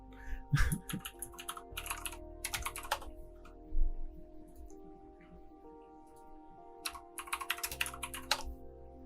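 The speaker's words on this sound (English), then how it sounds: "I'm literally just typing moon-base into Google Images" Keys clacking on a computer keyboard in bursts of quick taps separated by pauses, close and moderately loud over a low steady background hum, with no talking.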